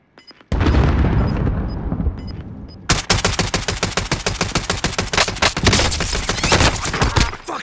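A frag grenade detonates with a loud broad boom in a Call of Duty: Modern Warfare match, followed by several seconds of dense, rapid automatic gunfire crackling close by, with no talking.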